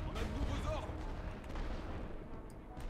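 Artillery fire striking tanks in a WW1 battle video game: rumbling booms and scattered blasts roll under a voice, with the explosions landing in a dense, continuous barrage.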